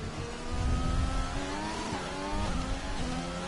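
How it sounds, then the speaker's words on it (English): An Alfa Romeo race car in a racing game revs and accelerates out of the pits, a steady close engine drone rising in pitch with no talk over it. "Alfa Romeo exiting pits."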